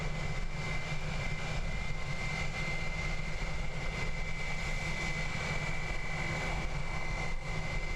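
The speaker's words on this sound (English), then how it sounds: "In true Sounds Air PC-12 fashion, using hardly any of the runway to lift off there." A Pilatus PC-12 turboprop takes off from a runway at Christchurch Airport, heard as a steady, fairly quiet engine drone with a constant tone that continues throughout.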